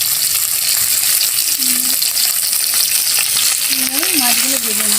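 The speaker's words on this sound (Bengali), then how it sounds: "মাছগুলো ভেজে নেব।" Fish for a mixed-fish curry frying in hot oil, a steady close crackling sizzle that holds throughout, with a few faint tonal sounds drifting over it.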